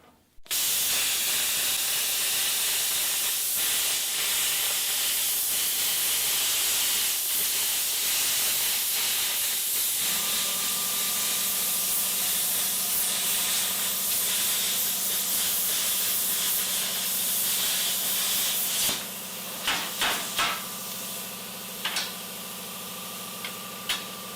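A metal cutting torch hisses loudly and steadily through metal for a long stretch, the roaring spray shifting tone partway through, then cutting out into a few sharp ticks and clicks near the end.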